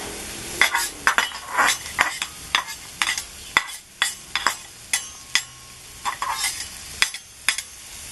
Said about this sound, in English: We're going to throw some more oil down and put these peppers in and get them going.